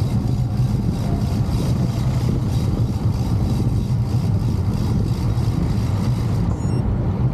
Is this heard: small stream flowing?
no